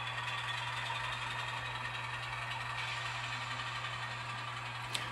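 Model train locomotive engine running at throttle notch 5, a steady droning hum with a constant low tone, even and continuous throughout at moderate level, with a brief click near the end.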